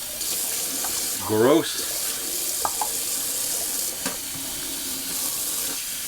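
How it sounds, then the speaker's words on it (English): Tap water runs into a bathroom sink for a rinse during a wet shave, a steady splashing stream under brief speech. "Just gonna rinse out the sink a little bit"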